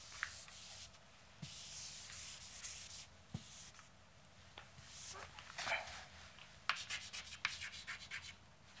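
Dry-erase marker writing being rubbed off a whiteboard with an eraser, a soft brushing scrape repeated in short strokes, fairly faint and close, with no talking.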